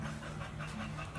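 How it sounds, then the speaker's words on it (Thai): Heavy, rapid panting after exercise, close to the microphone and continuing steadily without a break, with no talking over it. "หอบ"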